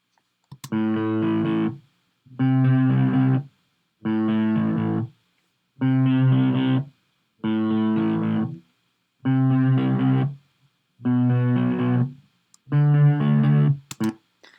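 A clean guitar riff recorded through a Marantz MPM-1000 microphone, played eight times in short, evenly spaced bursts with brief silences between, fairly loud with rich harmonics.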